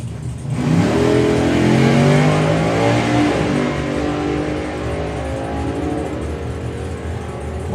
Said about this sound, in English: the 1959 Chevrolet Impala with a supercharger on the front